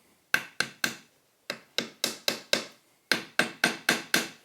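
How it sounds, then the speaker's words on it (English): A hammer gently taps a wooden spline into a sled joint: thirteen crisp, close knocks in three quick bursts of three, five and five, separated by short silences. "I use the hammer just to tap it very, very gently"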